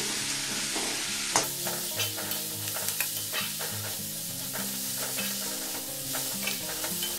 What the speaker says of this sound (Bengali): এটা 1-2 মিনিট একটু ভেজে নেব এই মশলার সাথে